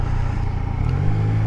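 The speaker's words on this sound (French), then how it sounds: "Là le moteur commence à hurler quoi" Yamaha XSR900 motorcycle engine revving with its short exhaust: a loud, close, steady low drone that climbs in pitch toward the end, with no voices over it.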